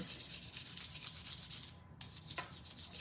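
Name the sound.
rubbing paint onto a self-adhesive tile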